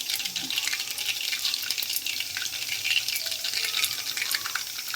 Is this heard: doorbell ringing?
no